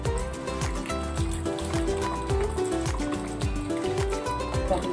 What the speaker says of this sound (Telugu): వాటర్ను వంపేసుకోవాలి.